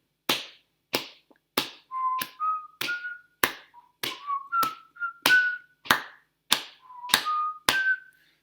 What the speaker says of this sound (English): I not only clapped my hands and stamped my feet, but I also whistled a tune